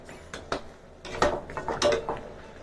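Blanched beef is ladled out of a pot of boiling water, with a series of sharp metallic clinks and scrapes of a utensil against the pot at close range.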